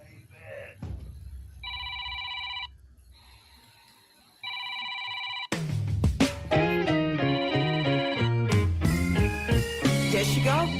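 A telephone rings indoors in two loud electronic trill bursts with a pause between them, followed by music that takes over the scene.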